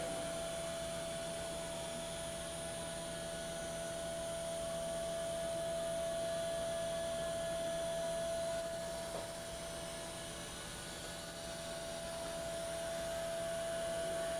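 A DMG Mori 5-axis machining center moving its Z-axis at 10,000 RPM, a steady, loud whine and whir with a constant tone, running without a break.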